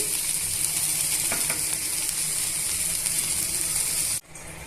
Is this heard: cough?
no